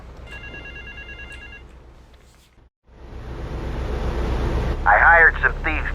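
A payphone in Grand Theft Auto 3 rings in a repeated electronic trill early on, then gives way to a steady engine-like roar with a brief burst of game sound near the end, no talk.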